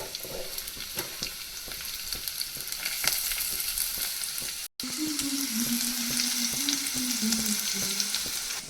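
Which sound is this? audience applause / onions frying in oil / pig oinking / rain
onions frying in oil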